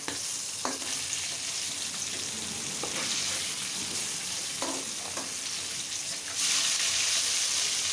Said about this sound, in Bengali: আর যে মাছগুলো ছিল ওগুলো ভেজে নিচ্ছি